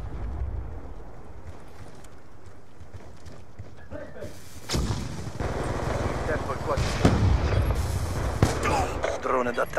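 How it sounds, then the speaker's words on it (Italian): Grenade blasts burst through a busy Call of Duty firefight, several loud broadband hits stacking up after a quieter stretch, with continuous game noise and players' voices talking over the action. "Hanno lanciato 14 granate."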